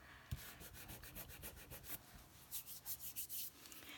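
Dried glue is rubbed by hand so it flakes off, making a steady series of close, soft scraping strokes that grow more rhythmic and distinct toward the end, with no speech.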